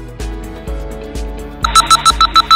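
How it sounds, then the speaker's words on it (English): Beeping alert used in an emergency braking exercise at a Dubai driving test centre, a rapid series of about seven loud, evenly spaced electronic tones over low engine rumble. "When you hear the beeping sound,"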